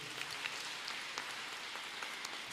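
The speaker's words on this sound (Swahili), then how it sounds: "Tuwapigie makofi tena." A church congregation claps during a Kikuyu-language brigade week service, a dense, even wash of applause that holds steady throughout with no voices above it.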